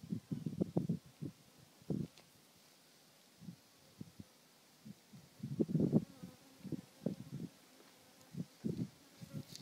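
A swarm of African honey bees buzzing close up around a separated queen. Low, uneven hum swells and fades in repeated bursts, loudest near the start and middle, with no speech.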